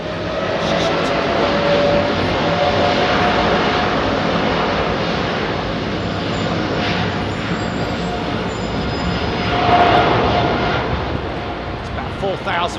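A fixed-wing airliner taking off from Heathrow's runway 27R, its engines a loud steady roar filling the whole stretch, swelling slightly near the end as it climbs away close by.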